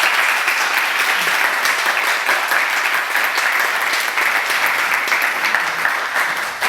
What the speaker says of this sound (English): Can you give Tony a round of applause?